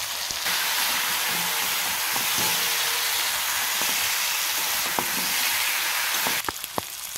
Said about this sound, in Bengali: বেশ কিছুক্ষণ কষিয়ে নেওয়ার পর এর মধ্যে আমি হালকা করে একটু কালার লঙ্কা গুঁড়ো দিয়ে দিলাম।